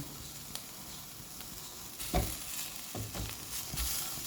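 Garlic and shallots stir-frying in a pan with a steady, soft sizzle, broken by a few louder stirring scrapes and clatters in the second half.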